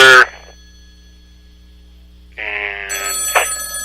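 Telephone ringing through a soundboard hookup: a short electronic ring at the start, a long silent gap, then steady ringing tones return louder for the last second and a half.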